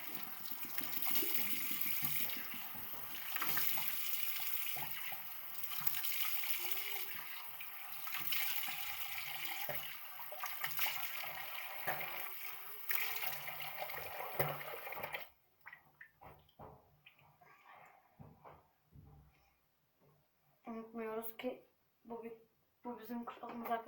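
Cold tap water runs steadily into a sink during face washing, a broad hiss with faint splashes for about fifteen seconds, then stops abruptly and a voice follows.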